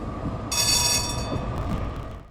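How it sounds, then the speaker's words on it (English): The 1912 Motorenfabrik Oberursel diesel locomotive number 5774, a small green engine, gives a loud high-pitched whistle or squeal lasting about half a second over a steady engine rumble, with no talk. "the little green diesel is number 5774, built by Motorenfabrik Oberursel in 1912"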